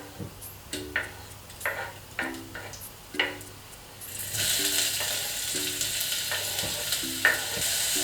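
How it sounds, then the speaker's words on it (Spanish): Garlic and onion softening in oil in a pot over gentle heat, a faint sizzle with rhythmic spoon taps and scrapes, then a brighter, louder crackle as the frying picks up. "Ponemos un poco de aceite en una olla y aquí vamos a rehogar el ajo y la cebolla."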